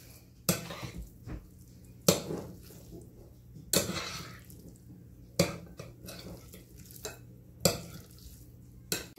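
Guacamole being mixed in a bowl, with a series of sharp, regular knocks of a utensil against the bowl about every one and a half seconds, and soft stirring and scraping between them, close up with no talking.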